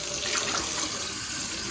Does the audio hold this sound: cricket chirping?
no